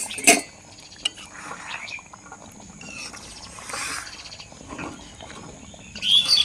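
A spoon stirring mung dal and pumpkin curry with ghee in a pan, with sharp metallic clinks and scrapes in irregular bursts, close up, over a faint background hiss.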